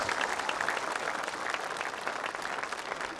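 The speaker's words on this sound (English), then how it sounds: "Round of applause for yourselves." Crowd at a national championship youth football tournament draw gives a steady round of applause, a dense wash of clapping holding at an even, moderate level throughout without talk.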